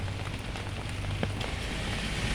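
Rain falling steadily on a home vegetable garden, a close, even hiss of drops on leaves and surfaces with no voices.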